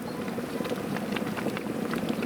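A steady, dense bubbling of liquid at a rolling boil, continuous and fairly loud, with small pops scattered throughout.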